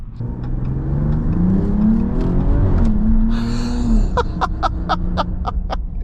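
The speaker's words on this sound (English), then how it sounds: "this engine is a potent beast, especially on idle. It has a really nice raspy sound to it." A 2025 Ram 1500 RHO pickup truck engine revs up, its raspy pitch climbing and falling, followed by a series of sharp, rhythmic pops or clicks toward the end.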